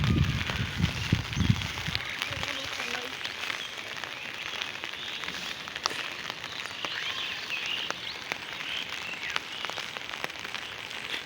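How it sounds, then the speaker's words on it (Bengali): Light rain falls over a village in rural Bangladesh, a soft, steady close hiss of drops with a few low thumps at the start. "এখন হালকা বৃষ্টিটা কমছে"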